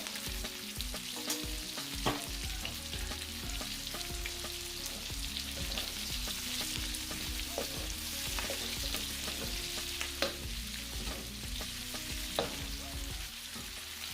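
Pork fat frying in a pan crackles with a loud, continuous sizzle, broken by the scrape and clatter of repeated stirring, heard up close with no speech.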